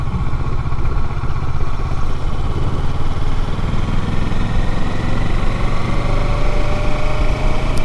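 A motorcycle rides through the Vintage Oaks neighborhood in New Braunfels, Texas, its engine a loud, steady close-up drone with clattering mechanical texture and a slowly shifting pitch, no voices over it.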